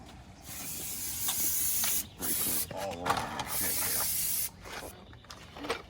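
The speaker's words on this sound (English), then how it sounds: "We want to spray everything with brake clean." Several bursts of brake cleaner aerosol spray hiss up close during brake line replacement on a Honda Civic, each lasting a second or two, separated by brief pauses and faint handling clicks.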